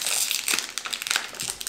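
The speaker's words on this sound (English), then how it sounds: "These packages are so hard to open. God, rip it off!" Plastic wrapper of a prawn-cracker-like Japanese snack being pulled and torn open: close, sharp crinkling and crackling in short irregular bursts, without speech.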